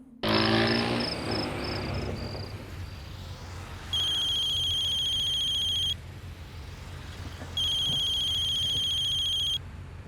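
A telephone rings in a domestic scene: two long electronic ringing bursts separated by a pause, clear and steady, following a brief rush of other noise at the start.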